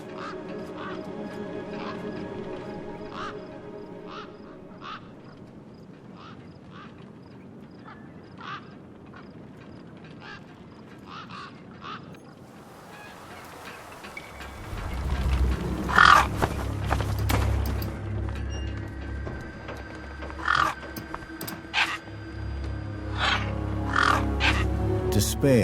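Harsh cawing and quacking calls of gang birds in a wasteland in the game Beyond a Steel Sky, sharp repeated cries over a low rumble that swells loudly in the second half, with faint speech earlier.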